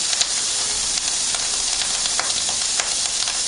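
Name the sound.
bacon and Italian sausage frying on very high heat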